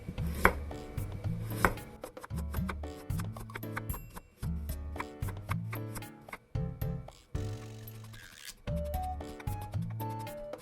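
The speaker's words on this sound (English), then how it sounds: "Cut all vegetables into thin strips." A knife chops vegetables into thin strips on a cutting board for a Japanese fried fish marinade. Quick, even taps come in short bursts with brief pauses between them, close and clear, with no talking.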